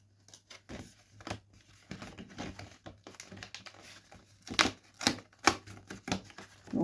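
Die-cut paper toppers are popped out of a card sheet one after another, giving a run of crisp, irregular snaps and crinkles close by, louder toward the end, with no voices.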